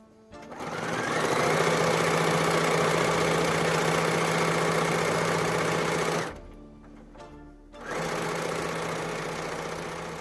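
A sewing machine running steadily for free-motion quilting with thread, a loud continuous mechanical whir that stops briefly, then starts up again, close and alone.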